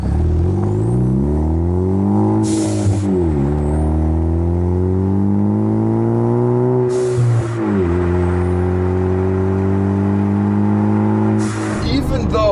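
A 2015 Ford Focus ST turbocharged engine revs up loudly through the gears, its note climbing and dropping at each shift near 3,000 RPM, with brief whooshes of boost bleeding off between pulls.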